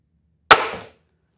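A single sharp crossbow shot from a Ravin R10, a loud close snap with a brief ringing decay, then silence.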